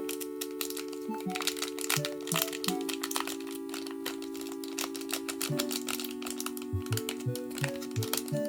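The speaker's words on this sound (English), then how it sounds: "so we'll open up these packs" Pokemon Unified Minds blister packs torn and crinkled open by hand, steady close plastic and foil rustling with tearing bursts, over a constant background music tone.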